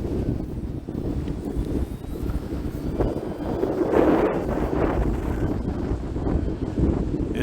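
Wind rushes steadily across an outdoor RC plane flying field during the maiden flight of an E-flite T-28 1.2m, a loud continuous buffeting roar on the microphone that swells slightly midway.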